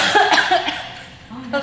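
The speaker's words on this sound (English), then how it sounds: "I'm so used to the coughing thing" A person coughs in several rough, close bursts after being caught in a choke hold during grappling practice, with a voiced, throaty quality and short pauses between coughs.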